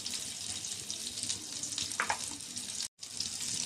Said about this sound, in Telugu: బటర్ వేసుకుంటున్నానండి. ఒక 2 స్పూన్లు వేసుకుందామండి బటరు.